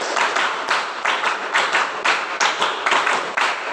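A classroom of students claps a counted pattern of one, three and five beats together in a teacher-led exercise, the sharp bursts close and loud in tight rhythmic groups with short gaps between.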